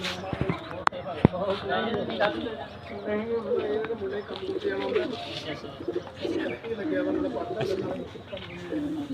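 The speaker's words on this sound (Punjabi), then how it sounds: "ਆਪਾਂ ਇੱਕ ਤੁਹਾਨੂੰ ਕਬੂਤਰੀ ਹੋਰ ਦਰਸ਼ਨ ਕਰਾਉਣ ਲੱਗੇ ਆ" Pigeons coo in low, repeated throaty murmurs, steady throughout, mixed with nearby voices and scattered clatter.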